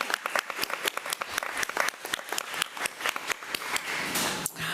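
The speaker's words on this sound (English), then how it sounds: "Let's give Zoe a round of applause as she comes up." Applause for a student called up at a school board meeting, a dense patter of many hands clapping steadily in a large room, sustained throughout with no talking.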